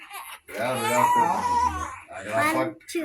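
An infant cries in loud, wavering wails close by, broken by a brief pause and a short sob near the end.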